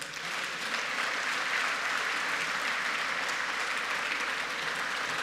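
Audience applause for the President fills the whole stretch, a steady, dense wash of many hands clapping at even loudness with no voices standing out.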